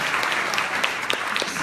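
Audience applause for the evening's speakers at a corporate business presentation, steady dense clapping throughout, fairly loud and unbroken with no talk over it.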